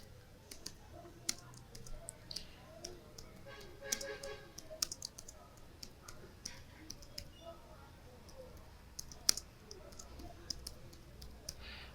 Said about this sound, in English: You type the name of the school.